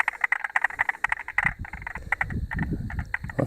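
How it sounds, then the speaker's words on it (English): A frog calls from a pond in a fast, repeated chirping trill up close, followed by a lower watery rustle and splashing as the calls continue more sparsely. "I heard another type of frog before."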